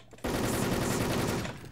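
Sustained burst of automatic gunfire from the online shooter Wolfteam in a deathmatch round, a dense rapid rattle that starts abruptly and runs loud and continuous for over a second before easing slightly.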